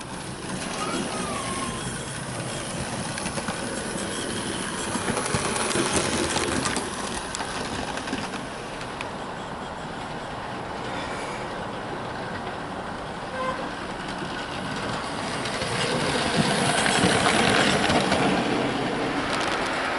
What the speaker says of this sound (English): So now we come to the loaded test run for the rebuilt Royal Scot, and I have it pulling the LMS rake.